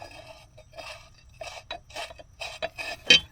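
Metal retaining nut being threaded onto a bolt during a Case 590 Turbo backhoe rear differential repair, heard as a series of short, close rasping and scraping bursts with brief pauses, ending in a sharper metallic scrape.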